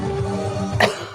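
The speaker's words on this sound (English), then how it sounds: "Oh, I had to cough then." A single short cough from a presenter at a 90.5 FM radio studio microphone, heard close and brief over a quiet hum near the end of the moment.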